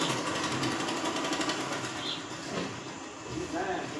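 A sewing machine stitching collar pieces onto a blouse, running in a fast, steady mechanical whir close by, fairly quiet, with a short soft pause partway and no clear talk over it.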